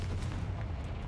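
A Confringo spell explosion goes off in the video game Hogwarts Legacy, a loud sustained booming rumble that sits low and steady for about a second with no voices.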